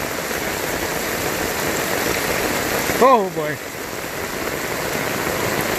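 Steady rain hisses down onto palm fronds in a garden, a dense, even wash of noise throughout, with a brief exclamation from a voice in the middle.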